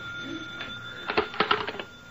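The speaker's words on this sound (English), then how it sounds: "The telephone was ringing as I came in." Old-fashioned telephone bell ringing in a radio drama, a short burst of rattling rings close by with a quieter murmur beforehand, no clear speech.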